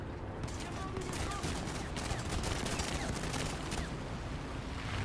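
Rapid bursts of aircraft strafing gunfire rattle across a War Thunder battlefield, with dense machine-gun fire crackling over a rumbling background and holding at moderate loudness throughout.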